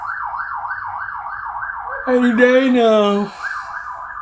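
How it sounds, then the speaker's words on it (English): A wailing emergency siren passes outside a home in a run-down urban neighborhood, steady and fairly loud, with a second, harsher siren tone cutting in briefly near the middle, while someone talks over it. "damn sirens."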